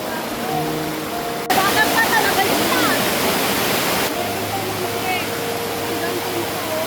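Gabur-Gabur Falls in Peñablanca, Cagayan pours with a steady, dense roar of falling water. It grows noticeably louder and fuller for a few seconds in the middle, then settles back to a constant rushing wash.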